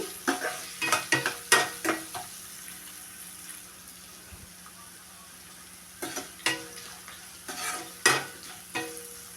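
Okra (bendakaya) frying in a pan, a low sizzle under bursts of rhythmic scraping and stirring strokes, in two clusters separated by a quieter stretch.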